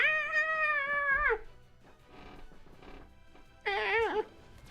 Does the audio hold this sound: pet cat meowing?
yes